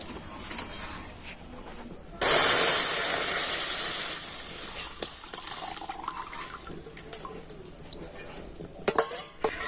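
Milk mixture for malai pudding poured into a kadai on a lit stove: a sudden liquid splash and rush that starts abruptly and slowly fades, followed by faint clinks and small kitchen sounds.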